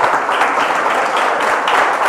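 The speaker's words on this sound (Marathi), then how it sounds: "टाळ्या वाजत राहू द्या." Audience applauding after a project presentation at a Java project competition, a dense steady burst of many hands clapping close by, unbroken for about two seconds.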